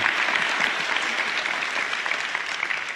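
Dense, steady applause from a seated audience at a talk on Rwanda, loud and continuous with no voices over it.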